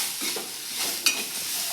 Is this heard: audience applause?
no